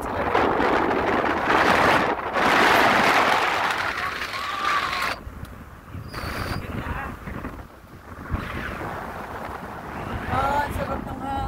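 Wind in rural Bukidnon, Philippines, buffets the microphone in strong, rushing gusts that swell and ease. Faint voices sit underneath.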